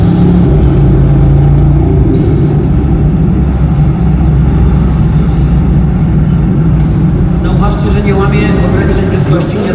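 Engine of a car being driven calmly, loud and close: a steady low drone with constant road rumble throughout and a slight rise in pitch near the end, while someone talks over it.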